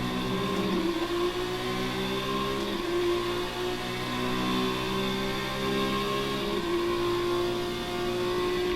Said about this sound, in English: as I'm driving Lando Norris. We're making our second run.